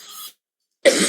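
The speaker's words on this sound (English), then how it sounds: "this is a nervous cough" Two short, close coughs are separated by a brief silence, dry and throat-clearing in character, with no other sound around them.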